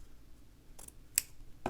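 Scissors trimming frayed fabric for slow stitching, giving two or three faint, quick snips close by in a quiet room.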